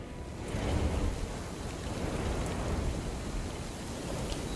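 Steady night rain in Alone in the Dark (2024) pours down continuously with a low rumbling undertone, dense and even throughout, no voices present.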